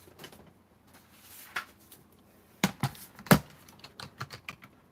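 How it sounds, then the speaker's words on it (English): Quick, light keystrokes on a computer keyboard as an email address is typed, irregular clusters of taps with a few louder clacks, close and without speech. "I'll type in my email address one more time here."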